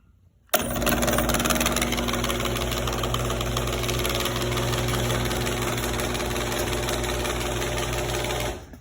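A garage door opener motor starts abruptly after a brief quiet moment and runs with a steady, loud mechanical hum and whine, then cuts off at the end, with no talking.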